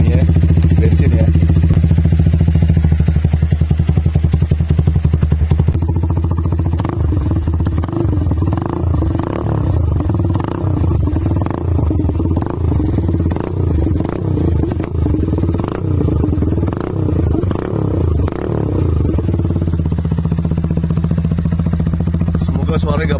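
A Benelli Motobi Evo 200 motorcycle, custom built in a Sportster style, runs with its engine idling at a steady low rumble, breaking into a series of rhythmic revs or pulses through the middle stretch before settling back.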